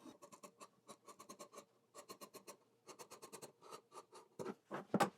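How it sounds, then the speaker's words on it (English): Fabric shears trim a sewn seam allowance on pleated pants, giving rapid runs of close, crisp snipping and rasping cuts in uneven bursts, growing louder toward the end, with no talk. "now I'm going to trim down my seam to about 3/8 of an inch"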